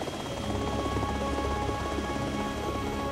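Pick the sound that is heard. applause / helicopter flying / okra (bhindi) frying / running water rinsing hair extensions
helicopter flying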